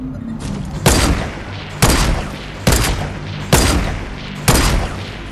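Gunfire in the video game Fortnite, five evenly spaced loud blasts about a second apart, each a sharp crack with a decaying boom over a low background hum.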